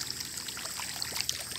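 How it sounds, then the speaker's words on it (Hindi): Water pours steadily into a field for irrigation, a continuous rushing trickle close by with small splashes and gurgles over the flow. "हम लोगों ने अभी यहाँ तो पानी लगाना शुरू कर दिया।"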